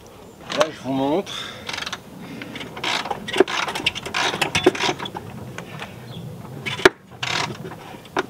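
A wrench ratchets and clicks while loosening a screw on the front shock absorber of a Renault Koleos, with short mechanical bursts up close and someone talking over it.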